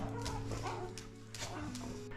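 A dog out walking in the Aude countryside in November barks a few sharp times, moderately close, over a steady musical background.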